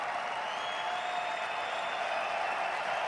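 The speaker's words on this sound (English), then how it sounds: "So a nice ovation here." Sustained ovation in a hockey arena as Pierre Houde is presented the Foster Hewitt Award, thousands clapping in an even, continuous roar heard from afar.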